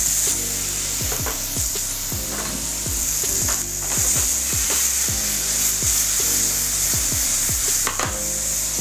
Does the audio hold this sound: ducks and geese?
no